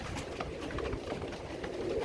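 Royal Teddy pigeons coo softly in a loft, low murmuring calls blending into a steady background of rustling and ambient noise, with no one speaking.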